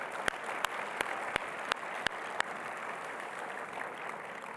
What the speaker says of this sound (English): So a little round of applause for that achievement.